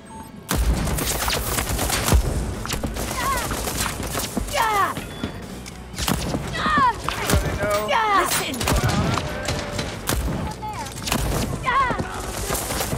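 Gunfire in Deathloop multiplayer: rapid bursts of shots crack out in clusters across the stretch, loud and close, with a player's voice speaking between and over the volleys.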